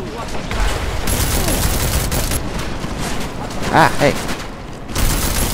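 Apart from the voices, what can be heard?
gunfire in video game Deus Ex: Mankind Divided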